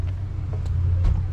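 Car passing by a gas station near the Nurburgring: a loud, steady low engine rumble close by, filling the whole short stretch without any talking.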